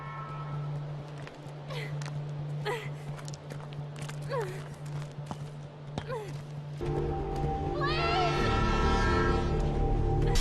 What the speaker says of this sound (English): What's that noise? The train.